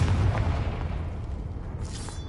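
A Confringo blasting spell explodes in Hogwarts Legacy, a deep low rumbling boom that rolls and decays over a couple of seconds, followed by a faint hissing crackle near the end.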